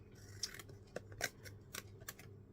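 Scissors snip double-sided tape off a handmade paper fairy card: a handful of quick, close, crisp cuts spaced irregularly over a quiet room background.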